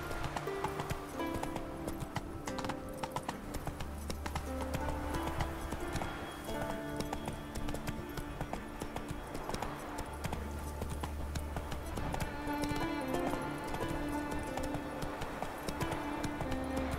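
Roach, a horse in the video game The Witcher 3: Wild Hunt, gallops with a steady rhythmic clip-clop of hooves, continuous and close, over game music and ambience.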